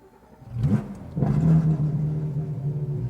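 A Porsche GT3 Touring with a 4.5-litre engine cranks and catches, then settles into a deep, steady idle with a brief rise in revs, heard up close.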